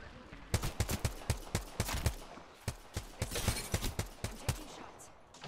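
Apex Legends gunfire cracks out in rapid, sharp shots, a fairly regular string of close bursts with brief pauses, moderately loud and with no talk over it.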